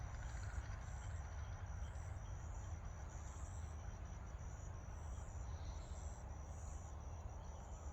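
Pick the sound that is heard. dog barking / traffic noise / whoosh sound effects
traffic noise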